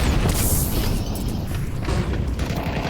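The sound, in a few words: grenade explosion in the video game Counter-Strike, map Nuke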